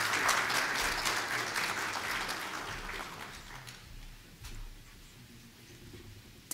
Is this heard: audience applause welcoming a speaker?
yes